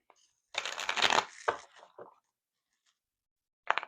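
Tarot cards are shuffled in a brisk riffle up close, followed by a few softer taps, a pause, and a short second burst of shuffling.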